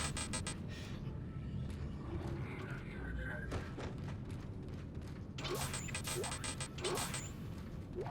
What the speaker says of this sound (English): I'm gonna have to force the airlock open from out here.